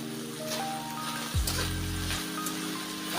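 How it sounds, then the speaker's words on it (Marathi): Salted brinjal slices sauté in a pan with a soft, steady sizzle, close but moderate, marked by a few light stirring scrapes, a faint tonal hum in the background and no voices. "आपण त्याला चांगलं परतणार आहोत"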